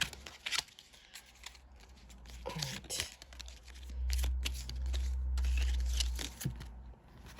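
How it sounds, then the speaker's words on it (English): A handful of tarot cards is shuffled by hand in a series of soft papery riffles and slides, close and moderately quiet, with a low steady hum beneath and a brief spoken remark. "I'm going to take the ones that fell out and shuffle from them"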